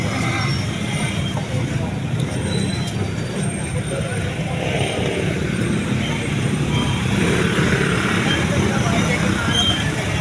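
Dense, heavy road traffic outside a school in Caloocan, a steady loud rumble of engines and passing vehicles that holds for the whole stretch with crowd noise mixed in.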